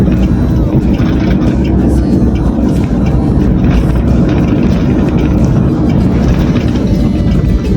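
Car engine rumbling loud and steady inside the cabin while a driver practises shifting a manual transmission, a continuous low drone with road noise and no clear breaks.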